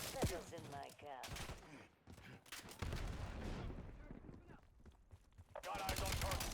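Rifle gunfire crackles in a Call of Duty: Black Ops 7 battle, with several quiet, scattered shots and bursts mixed under voices speaking.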